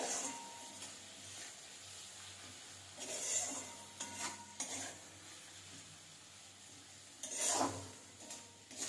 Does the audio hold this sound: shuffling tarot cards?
no